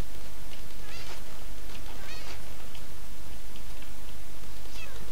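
A cat in the Minecraft video game meows a few times, short rising calls spaced across the clip over a steady hissing background, with no talk.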